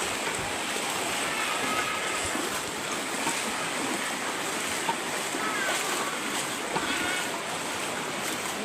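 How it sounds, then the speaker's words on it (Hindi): Fast floodwater from heavy rain in Bihar rushes past in a constant broadband roar, a close, unbroken wash of churning water with no pauses. "देख सकते हैं आप लोग कितना तेज पानी का बहाव चल रहा है।"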